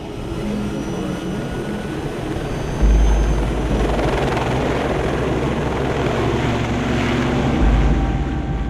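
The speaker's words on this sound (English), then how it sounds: "Perdido is a very long flight for a helicopter" Helicopter flying toward an offshore oil platform: a loud, steady rotor and engine roar heard from inside the cabin, with constant wind-like rumble and no talking.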